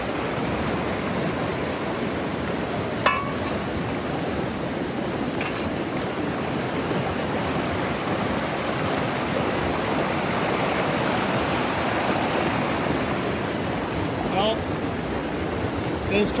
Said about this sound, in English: Right on the river here.